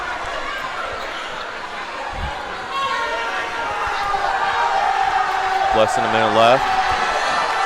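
A busy gym crowd at a St. Joseph Catholic School boys basketball game roars in a steady wash that swells toward the end, with a whistle-like tone and court thumps under a close commentator's voice.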